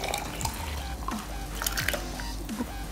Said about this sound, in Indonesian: Lalu kita kasih air rebusan jahe yang tadi kita rebus. Kita masukkan semuanya.